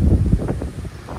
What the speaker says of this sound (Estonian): praegu tuul puub